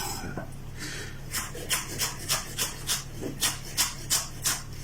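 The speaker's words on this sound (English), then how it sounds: "and then just going to chop those down." A knife chops chilies repeatedly on a cutting board, about a dozen crisp even strokes in a steady rhythm, close up over a low background hum.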